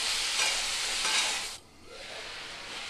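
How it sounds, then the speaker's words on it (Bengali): Cut pumpkin and potato with salt and turmeric sauté in a hot pan, sending up a loud, dense sizzle with stirring scrapes. The sizzle drops suddenly partway through, then settles into a softer, steady frying hiss. "ভালো করে মিশিয়ে নিয়ে কিছুক্ষণ কষিয়ে নিতে হবে।"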